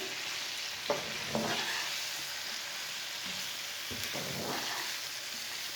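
Whole red chillies, turmeric and cumin for a mixed pickle roast in a pan with a soft continuous sizzle, broken by a few scraping stirs of a spoon.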